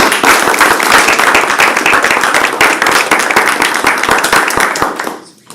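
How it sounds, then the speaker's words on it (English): A round of applause at a university business school scholarship award, with dense, loud clapping from an audience that holds steady for several seconds and then fades out. "I'll give you a round of applause."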